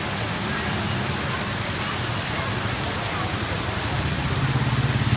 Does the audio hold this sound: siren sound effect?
no